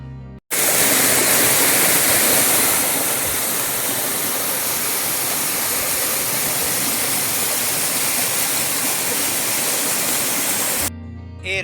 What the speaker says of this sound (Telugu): ఈ రణజిల్లేడా వాటర్ ఫాల్ దాదాపు 60 అడుగుల ఎత్తు నుండి కొండల మధ్య నుంచి ప్రవహిస్తూ ఇక్కడ జలపాతంగా దర్శనమిస్తోంది